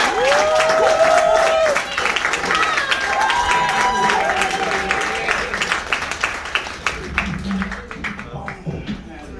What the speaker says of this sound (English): So I want you to start clapping, start clapping, start clapping.